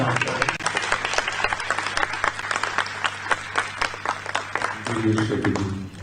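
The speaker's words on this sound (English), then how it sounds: "I think it deserves a big round of applause over again" Audience applause during an interview event at a G20 summit in Srinagar: a dense, sustained round of clapping from a crowd, fading as a voice begins speaking near the end.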